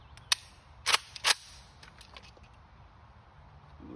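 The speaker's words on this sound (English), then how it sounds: "I'm just gonna ensue the shooting here." Several sharp gunshots from a PSA AK103 rifle, a single crack followed by two quick double bursts within about a second, loud and close, then a quiet tail.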